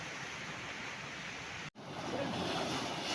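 Sea waves wash around Puli-Puli Island in a faint, steady hiss of surf and wind, broken by one brief dropout.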